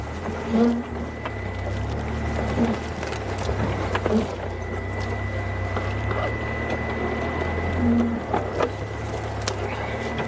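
A safari vehicle's engine runs in a steady low idle drone throughout, with insects buzzing faintly over it and no talk.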